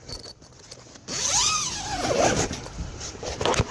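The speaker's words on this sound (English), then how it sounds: "we'll have to undo the zipper" A zipper is pulled open in a few quick, rasping strokes, close and fairly loud after a brief quiet moment.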